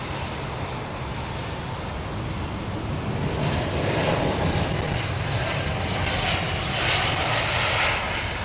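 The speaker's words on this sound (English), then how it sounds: "the Embraer E2 jet, the E195." An Embraer E195-E2 jet passes by at an airport, a smooth, broad engine roar that swells gradually and holds strong, loud and steady without speech.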